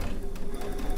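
A sewing machine stitches rapidly and steadily at close range, its fast mechanical chatter filling the whole short moment without a break.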